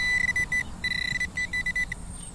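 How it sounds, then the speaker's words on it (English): Fisher F2 metal detector pinpointer near metal gives a series of short high electronic beeps in uneven bursts, quickening as it nears the target, over a steady outdoor background hiss. "The closer you get, the more quick the beeps get."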